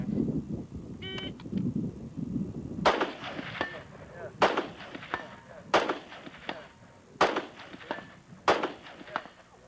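Rifle fire from a timed steel-target shooting event, about six sharp loud reports spaced roughly every one to one and a half seconds, each with a short echoing tail, after a brief noisy stretch at the start.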